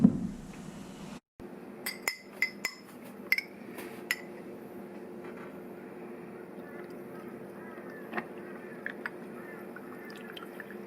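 Iced Vietnamese coffee is poured over a glass of ice, giving a run of bright, close clinks and small ice knocks in quick succession at first, then fainter scattered tinkles over a quiet room.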